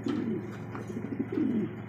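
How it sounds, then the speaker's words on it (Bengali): A pair of toy Lahori pigeons cooing up close, with soft throaty rolling coos that come in two short bursts and stand alone without talk. "এখানে আরো এক জোড়া কবুতর মাশাআল্লাহ, লাহোরি কবুতর, টয় লাহোরি যাকে বলা হয়"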